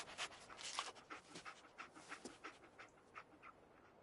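The dog companion in Fallout 4 pants in a quick, steady rhythm, each breath a soft, airy huff, close but fairly quiet and alone without talk.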